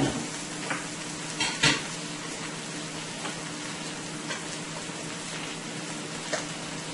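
Potatoes go into hot olive oil with onion and garlic, giving a steady soft sizzle with a few sharp clinks of a utensil against the pan.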